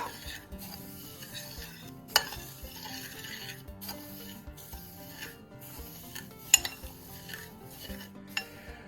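Dried oregano, basil and thyme with rosemary being stirred together in a bowl for a chicken nugget seasoning mix, giving soft continuous rubbing and scraping with a few sharp utensil clinks against the dish.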